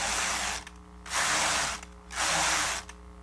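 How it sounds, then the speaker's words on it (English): Brother KH 400 knitting machine knitting rows of a hem: the carriage sweeps across in three long, loud rasping passes separated by short pauses, with a low mechanical hum underneath. "Next, you'll knit 19 rows of the hem."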